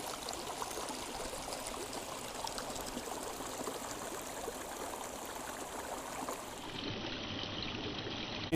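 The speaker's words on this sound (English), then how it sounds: "Walking the waterfall." A garden koi pond waterfall pours and splashes in a steady, close, broadband rush of flowing water, constant throughout with no talk.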